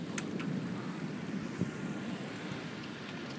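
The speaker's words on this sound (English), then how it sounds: "The rain's cold." Steady rain falling, a soft continuous hiss with a few faint drops standing out, fairly quiet and without voices.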